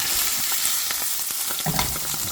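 Salmon fillet skin-side down frying in a hot pan, a steady dense sizzle that carries on without a break, close and fairly loud, with no voices over it.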